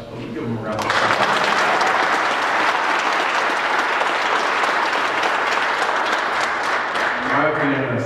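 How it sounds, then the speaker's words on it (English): A large audience bursts into sustained applause for Denver mayor Michael Hancock at the 2012 Report to the State, starting abruptly and holding steady and loud throughout, with a voice faintly audible beneath toward the end. "Let me give him a round of applause."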